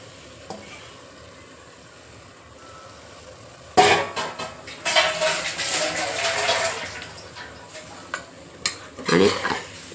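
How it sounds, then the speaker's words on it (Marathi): Marinated chicken coated in yogurt and spices tipped into a hot pot for chicken pulao, a sudden loud sizzle followed by scraping, clattering stirring that rises and falls, with quiet talk underneath. "आता त्याच्यामध्ये आपण जे चिकनला दही मसाला वगैरे लावलेलं ते सगळं आपण"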